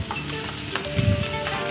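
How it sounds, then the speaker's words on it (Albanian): Onion frying in a pan alongside lightly browned chicken, a steady close sizzle with some stirring, and no one talking. "Atëherë Iva shtojmë qepën, pasi mishi i pulës mori një skuqje të lehtë."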